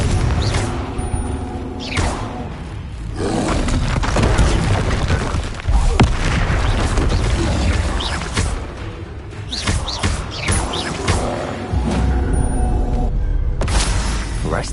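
A Confringo blasting curse explodes in the Hogwarts Legacy video game amid a loud, dense battle mix of booming thuds and rumbling impacts that stays heavy throughout, with no talking.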